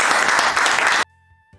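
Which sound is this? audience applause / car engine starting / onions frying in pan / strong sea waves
audience applause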